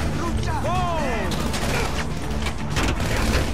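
Gunfire aimed at a car in the GTA V online game, a steady burst of shots over continuous game noise, with a voice speaking over it.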